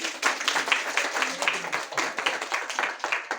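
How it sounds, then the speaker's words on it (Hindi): A group in a meditation centre session applauds, a sustained patter of many hands clapping at close range without talking. "अपने लिए ताली बजाएंगे।"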